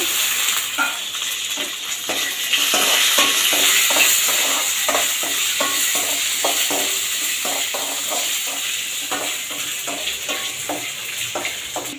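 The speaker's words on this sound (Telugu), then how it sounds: "ఎండుమిర్చి వేగుతుండగా పచ్చిమిర్చి" Dry red chilies and green chilies fry in hot oil for mango semiya upma, giving a steady loud sizzle broken by repeated scraping stir strokes in a pan, with no talking.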